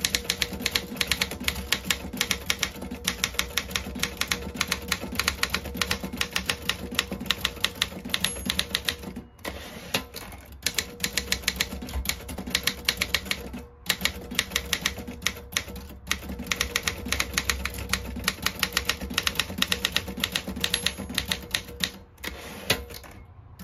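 A 1965 Consul 224 typewriter is typed on steadily, producing rapid, close key strikes with a few brief pauses and carriage movements along the way, with no talking.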